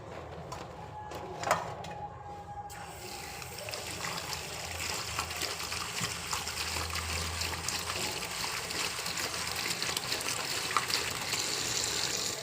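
Pigeon peas and surti papdi beans being washed in water: a steady close trickle and swish of running water with sloshing, starting after a brief clatter and continuing evenly throughout.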